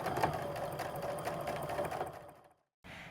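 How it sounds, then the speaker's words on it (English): Sewing machine topstitching a fabric backpack, a fast steady stitching rattle that runs for about two seconds, stops, then starts again briefly, close and clear. "we're going to go ahead and do top stitching on the other side as well"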